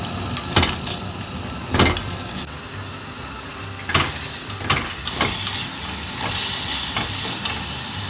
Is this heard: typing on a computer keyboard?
no